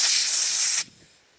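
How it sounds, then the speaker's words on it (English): A loud, close burst of compressed air from an air compressor blowing out the air filter of an Ariens lawn mower with a 6.75 EX 180cc Briggs and Stratton engine, hissing steadily before cutting off abruptly. "So I'm going to try and blow it out with the compressor"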